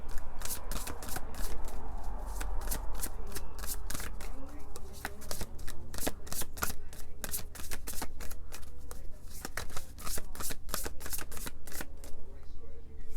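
Tarot cards are shuffled by hand, a rapid run of crisp riffling slaps and flutters repeating close up throughout, with a voice talking softly underneath.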